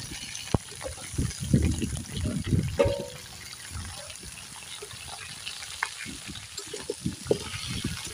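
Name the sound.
drumstick stalks frying in mustard oil in a wok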